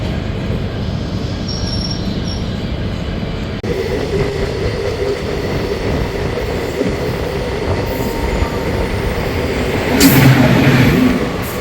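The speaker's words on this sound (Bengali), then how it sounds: "এখানে আমাদের আনশিডিউলড হল্ট হিসাবে দাঁড়িয়ে পড়লো ট্রেন।" A long-distance special train from Kolkata to Rishikesh stands at an unscheduled halt at Bandra junction. A steady loud rumble and hum carry throughout, with a faint metallic squeal rising near the end.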